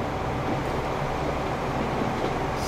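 A train in the video game Transport Fever climbs uphill while still gaining speed, giving a steady, dense rumble with no breaks, alone and at constant loudness.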